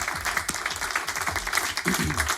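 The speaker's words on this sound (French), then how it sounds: "Qu'on applaudit bien fort." A studio audience at a French public TV broadcast applauds guest Tibz, with steady clapping throughout and a few scattered voices mixed in.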